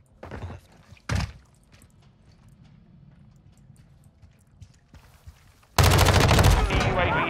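Submachine gun fire from an MP5 in Modern Warfare 2, a short burst early on and then a loud sustained volley of rapid shots near the end, with quieter game ambience between.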